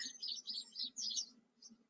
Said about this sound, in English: Hello, Mr. Bird.